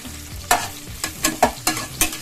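Capsicum frying in oil for batani bath, a close, loud sizzle broken by rhythmic spatula strokes, about five quick stirring hits in a row.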